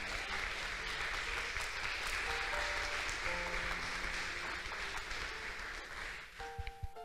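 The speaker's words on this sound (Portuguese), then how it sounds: "Dá uma salva de palmas para o Senhor Jesus." Church congregation clapping together in praise, a sustained wash of hands filling the sanctuary while faint sustained musical tones ring beneath, the applause thinning toward the end.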